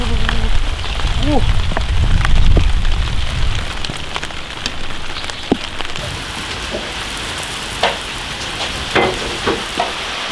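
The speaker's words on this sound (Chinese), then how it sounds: "下大雨了" Dense hiss of heavy rain pattering on a surface, with a low rumble and scattered clicks early on, steady throughout.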